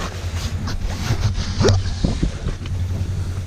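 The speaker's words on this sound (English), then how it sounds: "Holy wind." Strong wind buffets the microphone during a winter ATV ride on a Polaris or Can-Am, a steady rushing roar with low engine rumble and a few louder gusts throughout.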